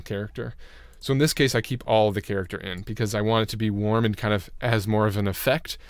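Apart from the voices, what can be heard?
No everyday noise stands out behind the speech.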